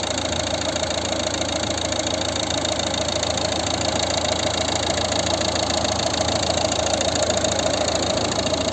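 A 2012 Volvo V50 1.6 HDi diesel engine idles steadily and evenly up close, a continuous low chugging hum with no voices.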